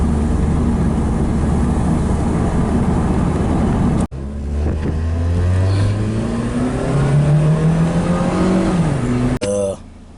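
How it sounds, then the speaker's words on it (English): Whining drivetrain noise rises and falls in pitch from a 2012 Nissan Versa with a faulty transmission while it is being driven, heard steadily inside the cabin with a couple of abrupt breaks. "Sound like the transmission is making that noise again."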